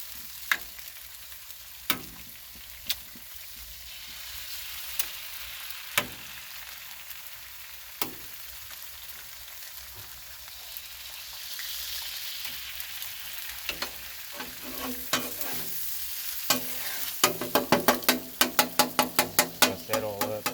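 Eggs frying on a hot Blackstone griddle for pork breakfast quesadillas: a steady, close sizzle that runs throughout, joined near the end by a quickening series of sharp metal spatula taps and scrapes as the eggs are broken up.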